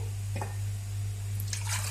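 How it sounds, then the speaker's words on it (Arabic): Water poured into flour for a flatbread and crepe dough gives a brief wet squish and drip over a steady low electrical hum. "وهحط قيمه كوبايتين او 3 كوبايات ميه زي ما انا هعمل دلوقتي قدامكم"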